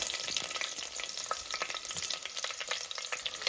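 Sliced onions and curry leaves sizzling in hot oil for a broad bean and potato curry, continuous crackling fry with scattered pops and stirring, close-up and moderately quiet, without speech.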